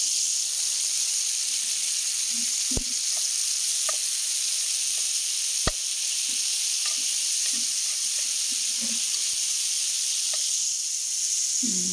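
Food frying in a home kitchen pan while cooking sinigang na bangus, tomato with egg and pinikpikan. A steady close sizzle runs throughout, with occasional clicks and utensil taps and no talking.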